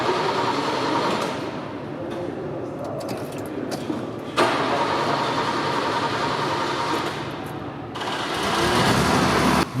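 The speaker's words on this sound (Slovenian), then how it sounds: "Ni vžgal v prvem poskusu, ker bencin iz uplinjačev izhlapi." An old ambulance's engine cranks over and over without firing, a steady loud mechanical whirring with brief pauses and restarts; its carburettor fuel has evaporated after long storage at a military history park.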